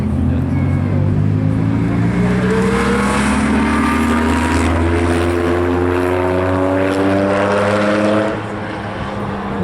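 Porsche RWB cars arrive at the Spa-Francorchamps circuit, loud engine drones rising in pitch as they approach and pass, then fading slightly at the end.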